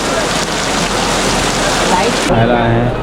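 Loud, dense rain pours down in a steady hiss, then cuts off abruptly near the end, leaving a duller background.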